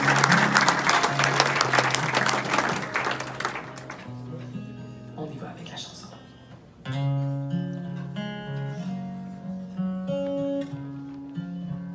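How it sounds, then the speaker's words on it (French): An audience at a gala charity dinner applauds in a dense burst of clapping that fades out, followed by music. "Donc, bon applaudissement pour vous."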